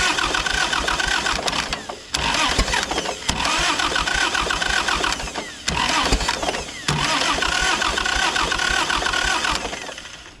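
A 1951 Cletrac Oliver crawler dozer engine is cranked by its starter in a loud, continuous rhythmic churn that breaks briefly between attempts but never catches, heard up close.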